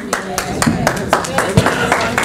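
A church congregation clapping in a steady rhythmic beat, a dozen or so even claps carrying on beneath a voice speaking over them.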